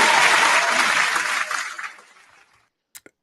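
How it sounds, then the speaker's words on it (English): A crowd applauds loudly, the clapping fading out over a couple of seconds, followed by a few isolated claps. "Round of applause."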